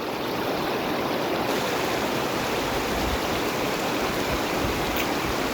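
Clear river water flowing steadily, a loud continuous rushing close by with no breaks, in the Pertap river on a fishing trip; no talking.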